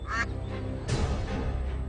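Ducks quacking at a duck pond, a couple of loud nasal calls close by, one near the start and another about midway, over steady low outdoor background noise.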